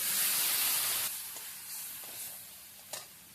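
A loud hissing sizzle as water hits paneer masala in a hot pan, bright steam noise fading after a second into a gentle simmering crackle with a few small clinks.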